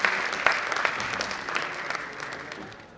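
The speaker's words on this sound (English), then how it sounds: "A big clap for Sir, please" Conference audience at an international sports and exercise medicine event applauding a panelist taking the stage, a dense patter of clapping that starts strong with a few sharp claps and gradually fades.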